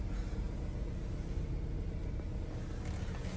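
A Jeep Cherokee Trailhawk engine with about 71,000 miles idles with a steady, smooth low rumble and an even hum, close by and unchanging throughout.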